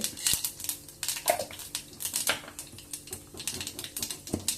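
Mustard seeds and urad dal crackling in hot oil, a dense run of sharp rapid pops and ticks spattering continuously, close and fairly loud.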